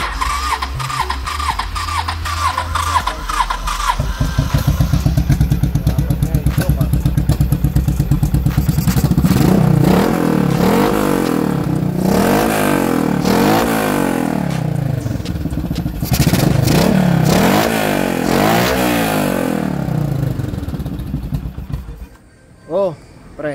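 A Honda Shadow 750 motorcycle, converted to a single carburetor after long storage with a failing starter relay, cranks and catches, then revs in repeated rising and falling bursts up close, with people talking around it.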